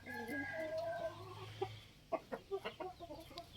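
A seven-month-old fighting rooster gives an immature, wavering crow, then a run of short, evenly spaced clucks, close by but fairly quiet.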